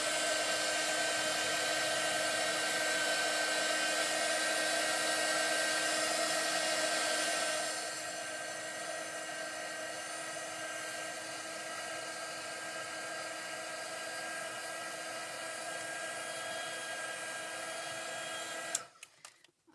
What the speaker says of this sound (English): I used a lot of ink, so I had to dry them